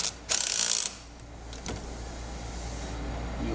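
A ratchet wrench with a 7/16 socket works on lock nut washers during a catch can install on a 2018 Ford F-150, giving a loud burst of clicking followed by a few faint mechanical ticks.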